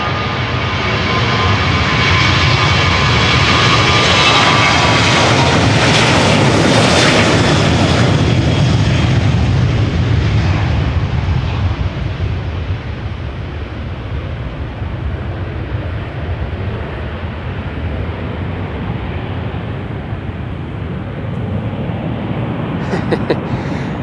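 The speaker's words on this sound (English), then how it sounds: "we have a 737-800 to Stockholm" A Boeing 737-800 departs Amsterdam Schiphol for Stockholm with a loud, close jet roar that swells to a peak and then holds as a broad, steady rumble.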